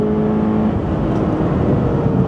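A Toyota GR86 Cup Car accelerates on the Buriram Circuit track, its engine giving a steady, loud, close-up drone with no break.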